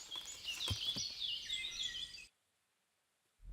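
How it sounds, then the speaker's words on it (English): Chirping, trilling bird calls from the ambient soundscape of the medieval video game Kingdom Come: Deliverance, with several birds overlapping for about two seconds before cutting to silence, then a low thump at the end. "Those bird sounds."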